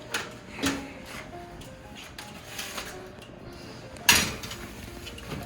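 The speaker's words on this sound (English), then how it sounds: "so we're going to put the fries in the oven" Fries going into a home oven, heard as a few scattered clanks and knocks of a tray and oven door, with one sharper metallic bang near the end, in a quiet kitchen.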